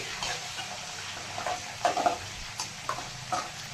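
Small-cut curry leaves frying in hot oil for an onion-chili relish served with corn dumplings; a quiet crackling sizzle with a few sharper pops and soft stirring scrapes, no talking.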